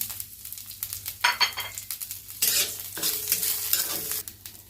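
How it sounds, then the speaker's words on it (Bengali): Whole spices temper in hot coconut oil, bursting into loud sizzles in waves as they are stirred and scraped around the pan, close up with no voices. "আর যেহেতু ফোড়ন, তাই আমি এটা নারকেল তেলে করছি"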